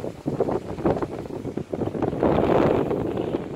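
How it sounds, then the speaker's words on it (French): Storm Carmen wind, 75-80 km/h, blowing hard in Le Mans in January: a loud, continuous broadband roar that rises and falls in gusts, with no voices. "Ça a bien soufflé."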